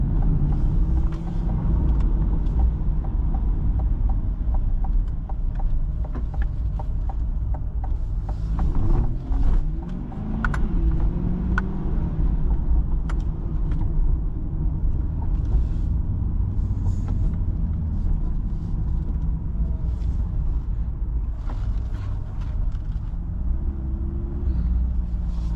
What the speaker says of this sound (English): Great way to start the morning driving this awesome C8.